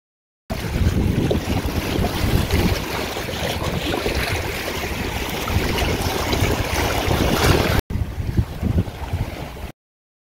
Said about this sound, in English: We took a boat tour that was with the open air boat tour.